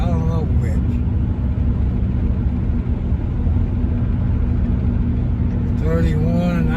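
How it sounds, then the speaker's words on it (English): A Henryville fire truck rolls past with a steady, heavy low rumble that stays loud throughout, heard from inside a car, with a person talking briefly at the start and end. "A fire truck, I think that's Henryville fire truck, or Salisbury"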